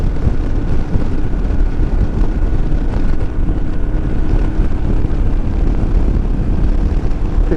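Royal Enfield Himalayan motorcycle cruising in top gear at about 50 mph and 4,000 RPM, a dense steady engine drone buried under heavy roaring wind buffeting, constant and loud throughout.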